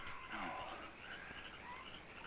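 Night jungle ambience with frog croaks and chirping calls of creatures, faint and distant, forming a dense, continuous background.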